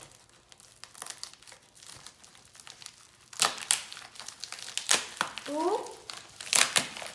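AirPods retail packaging, 2020 model, crinkles and crackles under handling in bursts of rustling, with a louder tearing-like stretch midway and a brief spoken exclamation.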